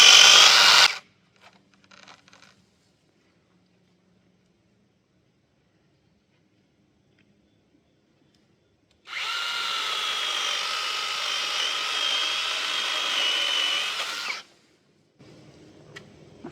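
A small Kobalt cordless chainsaw with a 6-inch bar runs in one steady, loud whine for about five seconds, preceded and followed by near silence and faint handling noises.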